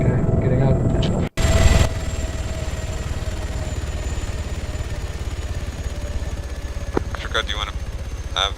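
A military helicopter in the ArmA 3 video game shuts down after landing. A brief voice opens, then a steady pulsing rotor and engine drone continues close and even to the end.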